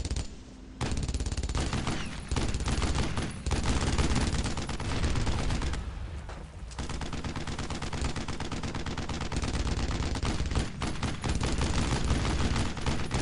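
Sustained MG42 machine gun fire in the World War II shooter Brothers in Arms: Road to Hill 30, loud continuous rattling bursts filling the whole stretch with only brief breaks.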